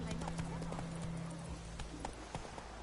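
A horse gallops in the Witcher 3 video game, rapid clip-clop hoofbeats running steadily beneath game music and a voice talking.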